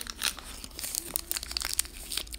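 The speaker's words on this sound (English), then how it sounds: "There, I spat back into a wrapper." Close, quiet crinkling and crunching of a gum wrapper being handled as chewed gum is spat back into it, a run of small irregular crackles with no talking.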